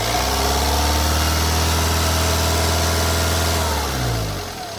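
A 2019 Honda Amaze diesel car engine runs steadily at raised revs under the accelerator for several seconds, a loud close drone with strong low harmonics, then the revs fall away at the end.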